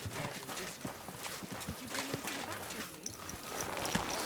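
Horse hooves clip-clopping in Kingdom Come: Deliverance II, a steady walking rhythm of hoofbeats at low volume with faint background game ambience.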